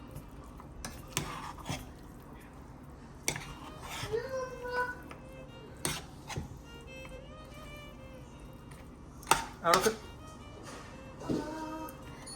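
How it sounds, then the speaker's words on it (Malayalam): A spoon scrapes and knocks around a pot of beef biryani with a few scattered stirring clatters, quiet and close, including a sharper cluster of scrapes near the end, with faint background voices. "അപ്പം നമുക്ക് നൈസായിട്ടൊന്ന് ഇളക്കി നോക്കാം എന്തായിന്ന്"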